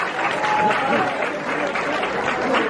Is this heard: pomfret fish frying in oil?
no